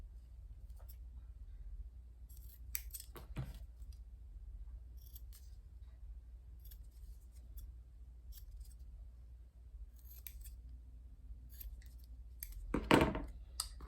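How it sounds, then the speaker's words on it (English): Scissors snip the fabric corners of a sewing-pattern tote bag in several short, crisp cuts close by, with one louder snip near the end, over a quiet low hum. "I'm just gonna snip my little corners here"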